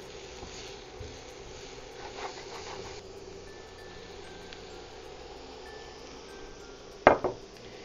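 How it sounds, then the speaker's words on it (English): Chopped onions and other vegetables dropped into a pan for a keto veggie scramble with eggs: a soft rustle and patter, then a sharp clatter of a utensil against the pan, with faint sizzling under it. "now we're going to drop our onions. The rest of our veggies."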